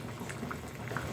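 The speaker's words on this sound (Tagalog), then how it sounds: "Kaya mga friendship, ang ganda ng kulo." Inabraw with cabbage and squash boiling in a covered pot, a soft continuous bubbling and burbling heard up close at low volume.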